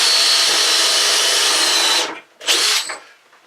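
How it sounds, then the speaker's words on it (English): A power drill fitted with a countersink bit bores a screw hole in wood for a boat settee repair, a loud steady whir for two seconds, a brief pause, then a short second burst. "This is a bit that is supposed to countersink the hole for the screw. Same time it drills the hole"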